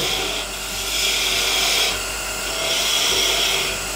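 A 3/8-inch detail gouge cuts spinning wood on a lathe while turning a Christmas ornament, giving a steady close hissing, scraping rasp that swells and eases in waves.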